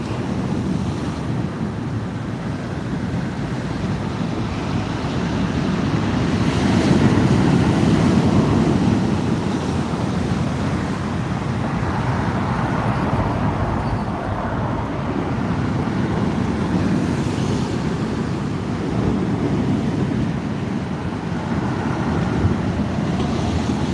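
Sea waves wash onto the shore below a slope during a windy sea fishing trip, a steady roar of surf that swells louder around the middle, with wind buffeting the microphone throughout.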